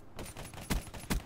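Close, dense bursts of gunfire in Call of Duty Black Ops 3, with two sharp punchy shots standing out near the end over a steady noisy game background.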